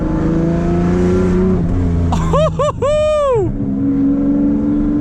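A 2000 Lamborghini Diablo GT engine drones loudly and steadily while the car creeps along at low speed, and a person's brief high exclamation rises over it midway.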